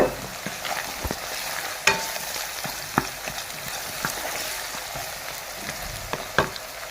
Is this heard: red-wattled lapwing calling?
no